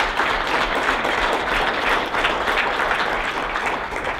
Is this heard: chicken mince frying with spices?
no